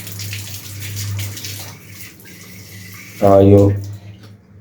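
Water splashes and trickles as a newborn goat kid's mouth is washed, a steady running wash near the microphone. A voice speaks briefly near the end.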